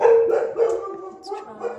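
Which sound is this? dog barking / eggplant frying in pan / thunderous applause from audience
dog barking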